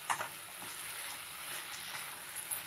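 Okra in tomato masala fries on high flame, a steady close sizzle with a few soft scrapes as it is stirred, and no talk over it.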